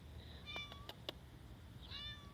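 An unfamiliar cat gives two soft meows, separated by a few faint clicks, quiet and fairly close against low background noise.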